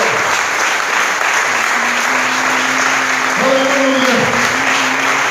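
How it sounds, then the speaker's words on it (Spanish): Loud, sustained applause from a church congregation during a worship service, a continuous dense roar of clapping with a few voices and tones rising over it. "Den ese fuerte aplauso al Mesías,"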